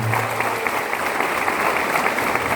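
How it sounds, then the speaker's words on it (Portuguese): A church congregation applauds during a Sunday homily, with dense, steady clapping from many hands filling the whole moment at an even, sustained level. "Uma salva de palmas para Jesus."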